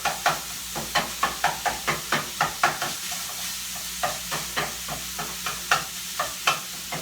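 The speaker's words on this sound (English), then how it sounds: "And I'm using this meat chopper. It does a great job of breaking it into small pieces." A pound of sausage fries in a pot, sizzling steadily while a meat chopper repeatedly knocks and scrapes it into crumbles, a quick irregular series of close, sharp taps over the hiss, with no talk.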